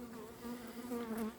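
An agitated swarm of honeybees buzzes close and loud in a continuous, wavering drone, with pitch rising and falling as individual bees pass near.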